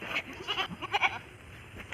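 A goat bleating close by after heavy rain, a few short wavering bleats in quick succession, faint and alone with no talking.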